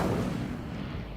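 Incendio fire spell cast in Hogwarts Legacy, a dense, loud burst of blasting, booming fire that fills the whole short moment and rumbles on steadily without a break.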